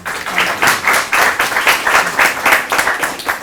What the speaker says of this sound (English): And I just join everybody in applauding.